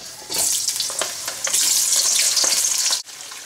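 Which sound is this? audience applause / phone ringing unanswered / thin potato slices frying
thin potato slices frying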